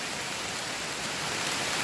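Heavy rain pours down in a bamboo forest, a dense, even hiss of countless drops that is loud and continuous, with no voices.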